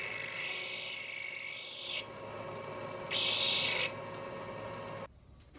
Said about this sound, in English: the real last operation here is just to deburr and chamfer the other side